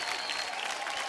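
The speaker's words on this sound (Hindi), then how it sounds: "जोरदार तालियां परेश और शरद के लिए" Audience at an Indian television comedy show applauding briefly, a steady, fairly faint burst of clapping with a faint tonal hum underneath.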